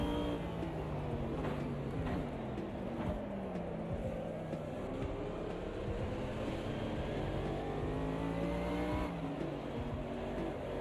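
Engines of racing cars in a multiclass GT3 video game race, a Trofeo threading through the field, drone steadily with overlapping rising and falling pitches, several cars at once and no gaps.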